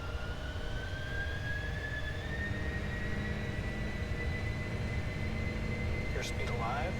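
Boeing 747 jet engines roar steadily at takeoff thrust in a flight simulator, a loud, sustained broadband rumble with a rising whine, and a brief siren-like tone near the end.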